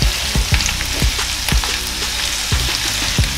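Tomatoes with salt fry in a pan and are mashed with a spatula, with browned onions cooking alongside. A loud, steady sizzle carries on throughout, and periodic thumps and scrapes come as the spatula presses down.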